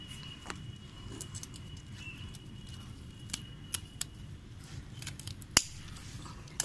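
Scissors snip coleus plant stems for cuttings, several sharp, close clicks spaced irregularly over a quiet background, with no speech during the cuts.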